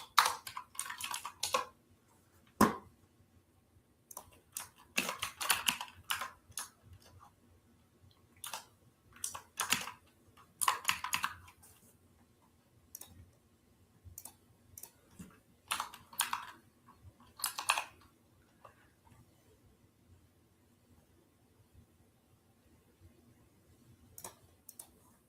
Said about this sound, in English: You're going to hear my keyboard.